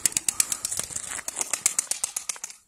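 Pigeons at their coop in a small mountain village make a run of sharp, rapid rattling flaps and clicks, close and regular, ending in quiet.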